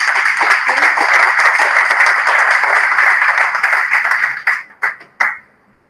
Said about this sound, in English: I request all the audiences to please give them a big round of applause.